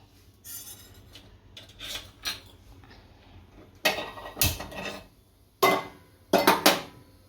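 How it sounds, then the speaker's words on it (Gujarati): A metal cooking pot set down on a gas stove in a home kitchen, heard as several sharp clanks and scrapes in irregular bursts, the loudest toward the end, over a quiet background with no speech. "હવે આપણે ગેસ ચાલુ કરી અને તપેલું મૂકી દઈશું।"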